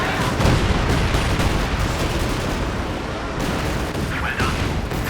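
A light artillery barrage strikes a defensive position in the Company of Heroes 2 strategy game, a loud, dense, continuous roll of booming shots and explosions lasting several seconds.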